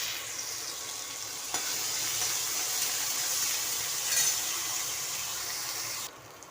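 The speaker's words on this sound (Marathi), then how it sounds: "कांदा फ्राय होऊन द्यायचा" Onion frying in a pan for a raw tomato recipe, with a steady, bright sizzle that holds at an even level throughout and cuts down near the end, with no talking.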